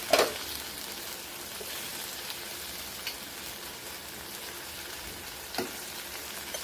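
Beef chili fry with potatoes and kale sizzles steadily in a covered pan over a low flame, a constant soft crackle broken by a couple of faint clicks, with no talk.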